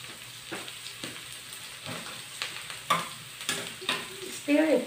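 Garlic and onion frying in a non-stick pan, a steady soft sizzle broken by repeated scraping stirs that grow louder toward the end, with no talking.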